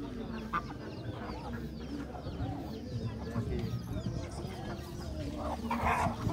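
Chickens cluck and squawk amid a busy crowd of voices at a chicken market in Camocim de São Félix, Brazil, with a dog barking faintly in the background.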